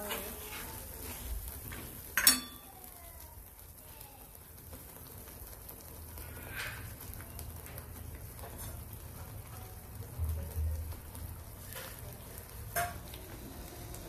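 Masala in a kadhai hisses with a soft, steady sizzle after water is added for fenugreek leaf and tur dal bhaji, a faint crackling bed with occasional louder pops and the clink of a spoon.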